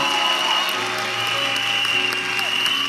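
A church congregation applauds steadily throughout, a dense, sustained wash of clapping from many hands at an installation ceremony, with a faint tonal hum beneath.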